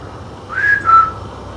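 A person whistles two short clear notes, the second slightly lower, close and loud against a quiet castle bedroom in Scotland.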